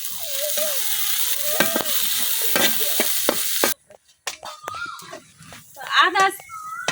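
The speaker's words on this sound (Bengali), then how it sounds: "পেঁয়াজ রসুনের সাথে আদাটাও কিছুক্ষণ ভাজে নিলাম।" Onion, garlic and ginger fry in a pan with a steady close sizzle and stirring scrapes, while a voice talks over it partway through.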